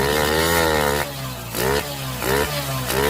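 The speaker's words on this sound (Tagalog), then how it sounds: "Kaya mapapansin nyo, habang nilalakasan nyo yung piga ay lalong tumutulin yung motor." A carbureted motorcycle engine revs hard and loud as the throttle is twisted, with the pitch climbing and dropping across several bursts and no talk over it.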